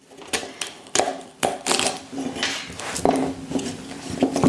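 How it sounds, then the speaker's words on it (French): Carrots chopped into large pieces with a knife: a series of irregular, crisp knocking cuts close by, coming quickly one after another. "je coupe coupe mes carottes en gros morceaux"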